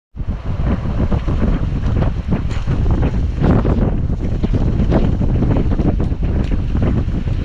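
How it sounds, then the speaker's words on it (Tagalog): Strong typhoon wind roars and buffets the microphone continuously, loud and close, with gusty low rumbling throughout and no talking. "lakas na ng hangin dito guys"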